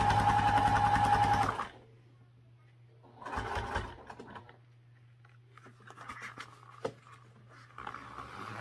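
A sewing machine stitches through three layers of fabric in a steady rapid whir that stops abruptly, followed by quieter handling and rustling of the cloth.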